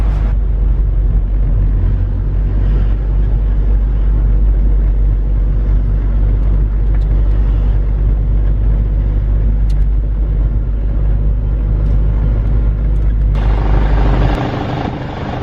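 A Nissan 240SX S14, just fitted with a new clutch master cylinder, pulls away with a loud, close, steady engine drone that shifts in tone near the end as the car leaves.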